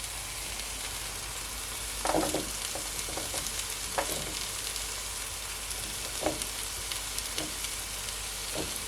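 Sweet pepper sizzles in a pan on a stove at low to medium heat. A steady, faint frying hiss runs throughout, with occasional soft stirring taps.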